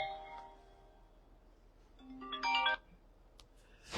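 A telephone ringtone plays indoors in short electronic tonal bursts, one near the start and a brighter one a couple of seconds later. The rings are fairly faint and sit above a quiet room.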